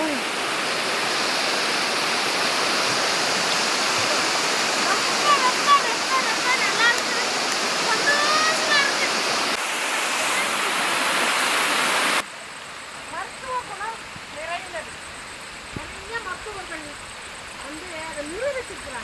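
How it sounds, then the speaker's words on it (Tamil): A mountain stream at the foot of Sathuragiri, Thanipparai, rushes steadily nearby, a dense continuous wash of sound that drops in level partway through, with a voice briefly audible near the end. "தண்ணி போகுது"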